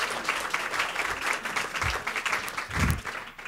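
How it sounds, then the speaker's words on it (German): Applause from a gathered audience welcoming Father Andreas, a visiting missionary, as he is introduced; steady clapping of moderate loudness with a few heavier thumps nearby. "Applaus."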